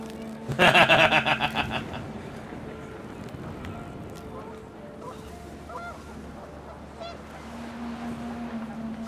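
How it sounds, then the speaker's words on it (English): Panicked geese honk in What Remains of Edith Finch, a short loud burst of repeated harsh honks near the start, then a lower murmur of ambience and faint calls. "The wind picked up, and panicked geese appeared and quickly went."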